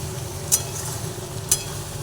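Chicken being stirred and fried down in a pan, a low steady sizzle broken by two sharp spoon scrapes about a second apart, heard fairly close with no talking.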